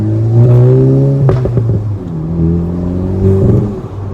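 A Volkswagen Rabbit Edition GTI engine, tuned by EQT, hums and shifts pitch as the car drives, loud and close, with a brief clunk midway and no speech.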